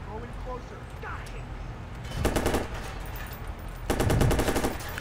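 Two bursts of rapid automatic gunfire in the Watch Dogs shooter, about a second apart and loud, over constant game background noise.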